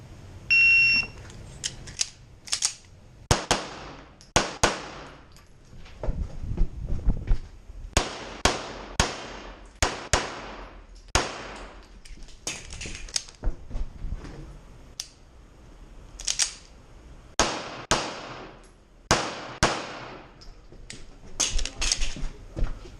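Gunfire during a practical shooting match run at the OKTS Interncup: sharp, loud shots come in quick strings and pairs, separated by short pauses for movement and magazine changes, across the whole stretch.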